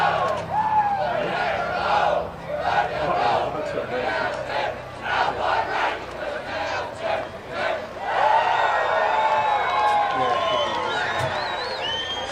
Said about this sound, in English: As the Omeo boys are going to sing their cheer song,